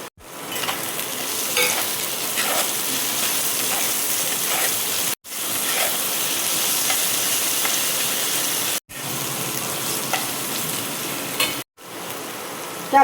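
Chopped ginger and carrot fry in a pan for Karnataka-style upma, a loud steady sizzle with faint stirring scrapes, broken three times by brief pauses before the hiss resumes.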